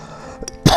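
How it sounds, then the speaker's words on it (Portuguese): A single sharp cough bursts out loud and close near the end, after a brief quieter throat sound, from a preacher during a Portuguese-language faith study session. "desculpe da tosse"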